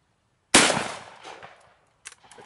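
Gunshot at a shooting range, one loud close crack with a decaying echo, followed by two fainter quick bangs.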